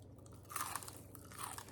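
Crunchy air fryer onion rings being bitten and chewed up close, a run of crisp crackling crunches in a quiet room with no talking.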